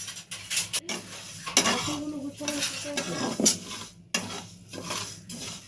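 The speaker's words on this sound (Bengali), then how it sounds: "ডালটাকে আস্তে আস্তে আমি একটু নেড়ে নিচ্ছি।" Moong dal dry-roasting in a kadai over low heat for khichuri, stirred slowly with a metal spoon, giving irregular scrapes and clinks against the pan close by with faint sizzle underneath, no talking.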